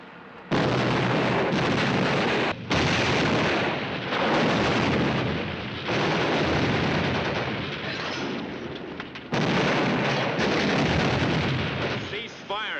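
Loud, booming blasts from a tank firing high-explosive shells in an old 1951 war film, several heavy bursts separated by brief gaps, with a gritty, compressed soundtrack quality.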